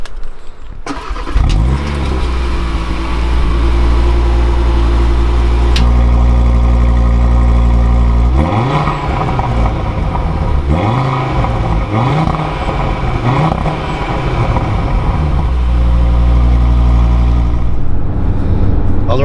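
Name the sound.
Audi RS3 2022 2.5 liter engine starting and idling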